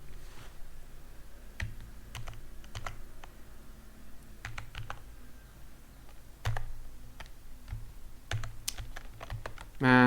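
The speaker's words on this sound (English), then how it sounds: "Man, this keyboard." Someone types on a computer keyboard while working on a Python and MySQL database project, giving sparse, irregular close clicks and key taps with short pauses and a few louder strokes near the end.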